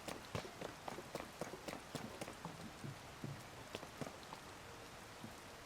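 Rain falls in The Legend of Zelda: Tears of the Kingdom as the character climbs, a steady soft patter with scattered sharp drop-like taps and light footstep-like hits, fairly quiet throughout.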